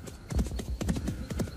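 A horse's hooves clip-clop in a quick, even rhythm, close and clear, with a slight hollow ring on each strike and no talking.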